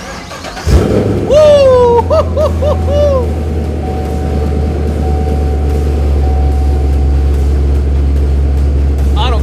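A car engine cranks and starts with a loud roar, revs briefly a few times, then settles into a steady deep idle; a person whoops over it.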